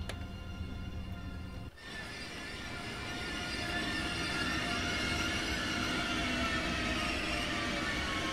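A simulated train braking to a stop at Pasing station in Train Sim World 5, with a sharp clunk early on followed by a rising, sustained rumble and a long high metallic squeal from the wheels.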